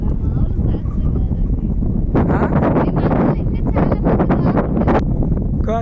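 Strong wind at sea beside a fishing raft roars steadily over the microphone, with gusty bursts of rushing noise building through the second half.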